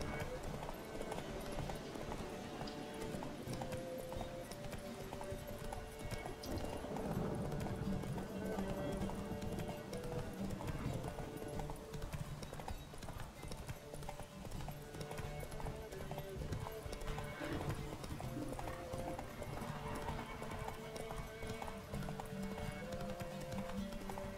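Roach the horse gallops in a race in The Witcher 3, hooves clip-clopping in a fast steady rhythm close up, with an occasional whinny and talk over the top.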